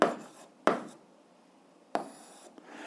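Pen or chalk strokes scratch out an algebra fraction solution in three short bursts, each a sharp rub that fades, close and quiet with pauses between.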